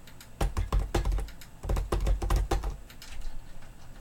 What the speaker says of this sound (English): I'll drum something with my fingers so you guys can hear.